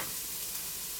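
Onions sweating in a pan give a soft, continuous sizzle with light stirring texture, steady and close, with no voices.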